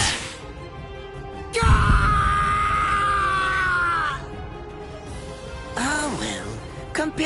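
A man screams in pain in the Bleach video game, a long loud strained cry followed by shorter pained groans, with game ambience underneath.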